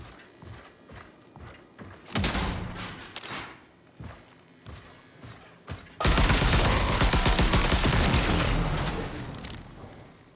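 Automatic weapon fire from the sci-fi shooter Marathon, with a short burst of loud rapid shots around two seconds and a long sustained barrage through the second half, amid softer game sounds and footsteps.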